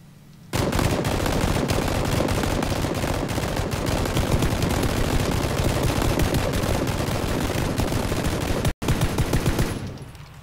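Rapid, sustained automatic gunfire at a car in PlayerUnknown's Battlegrounds, loud and continuous for several seconds with one brief gap near the end.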